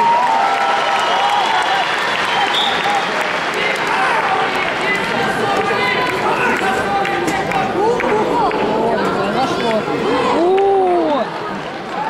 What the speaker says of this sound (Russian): Поддержите борцов аплодисментами!